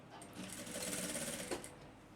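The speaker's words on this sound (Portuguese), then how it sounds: "Faço uma costura aqui, apenas uma." Sewing machine running a single seam along a black backpack, a fast mechanical whirring burst that starts, holds for about a second and stops, fairly quiet and close with no talk.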